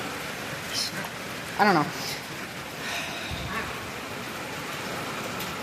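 Heavy rain falling at a farm in Union County, a steady wash of noise throughout, with a person speaking briefly over it and a short squeaky call partway through.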